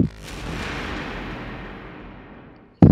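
Gunfire in a Doom 2016 team deathmatch on PS4: a loud burst with sharp transients decays into a long reverberant tail, then a fresh loud blast hits at the very end.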